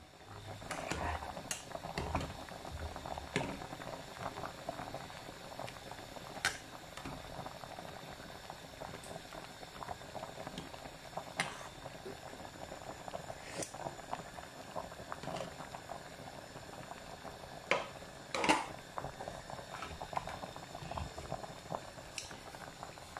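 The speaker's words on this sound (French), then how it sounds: "j'attends que ça bout bien pour pouvoir goûter et voir s'il faut rajouter du sel" Ivorian spicy fish soup bubbling in a pot, a faint, steady simmer of small pops and gurgles heard up close without any talking.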